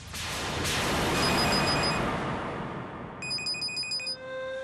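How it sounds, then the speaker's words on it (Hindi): Telephone ringing indoors: a bright electronic ring in repeated short bursts, fairly close, preceded by a broad wash of background noise and no talk. "फिर से आ गया उनका फोन।"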